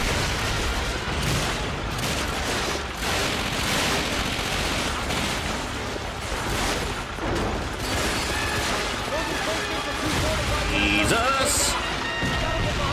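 Cannon fire in the World War II shooter Call of Duty: Finest Hour, dense booming gunfire and blasts rumbling continuously through a busy battle din, with a voice talking over it.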